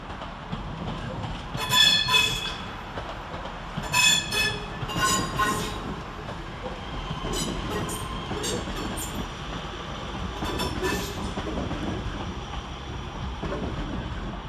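Northern and CrossCountry trains pull out of Manchester Piccadilly station with a low rolling rumble, repeated sharp wheel squeals and clatter over the rails, all in a reverberant station at moderate distance.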